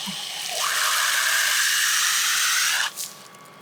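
A steady, loud hiss of water spraying onto a fire, lasting about two and a half seconds before cutting off abruptly, with no talking.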